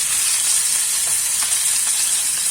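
Shorputi fish lightly fry in hot oil, giving a steady, close bright sizzle and crackle with gentle hissing that holds evenly throughout.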